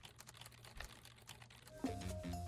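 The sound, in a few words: typing on a computer keyboard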